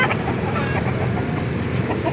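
Chickens cluck at a busy open-air poultry market in Calumpit, with short fowl calls over a dense, steady background of crowd and market noise.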